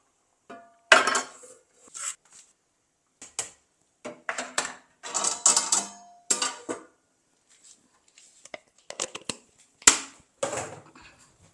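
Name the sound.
lid placed on cooking pot of sambar rice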